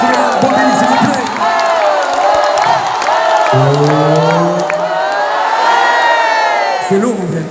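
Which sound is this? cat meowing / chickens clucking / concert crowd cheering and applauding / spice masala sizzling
concert crowd cheering and applauding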